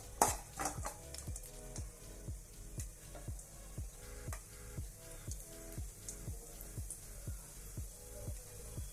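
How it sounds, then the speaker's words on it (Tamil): Fennel seeds, cinnamon bark, bay leaf and star anise sizzle in hot oil for a Tamil-style mutton liver fry, with steady frying hiss and a regular run of spoon-on-pan stirring knocks, close and fairly loud, no talking. "சோம்பு பட்டை இலை அன்னாச்சி பூ இது எல்லாம் போட்டு எண்ணெய் காஞ்ச உடனே தாளிச்சிக்கலாம்"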